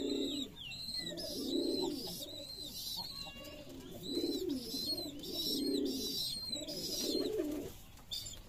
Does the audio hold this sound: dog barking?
no